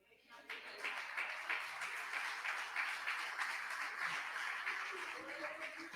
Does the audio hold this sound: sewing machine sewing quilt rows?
no